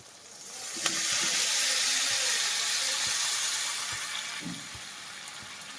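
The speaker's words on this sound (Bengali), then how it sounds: "এবার এর মধ্যে দেওয়া হবে গরম জল।" Hot water hits a pan of fried fish curry masala for Bengali pabda fish jhal, bursting into a loud, steady sizzle and hiss that slowly fades over several seconds, heard close up with no talk.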